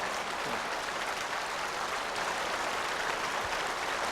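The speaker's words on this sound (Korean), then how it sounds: "계속해서 박수 좀 더 뜨겁게 좀" A church congregation at a new sanctuary dedication service applauds in a continuous, even roar of many hands, steady and full, with no voices standing out.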